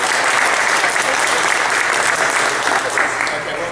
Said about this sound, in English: One big round of applause for all information.